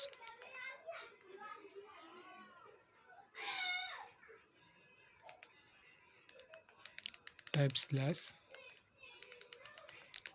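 Keys click on a keyboard in short bursts, mostly toward the end, mixed with a higher-pitched voice speaking over it and one sharp, loud clatter.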